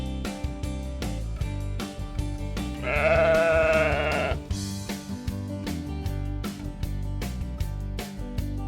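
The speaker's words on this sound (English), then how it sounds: "Here come our fluffy sheep." Fluffy farm sheep bleat over cheerful children's background music, with one long wavering bleat standing out in the middle of the passage.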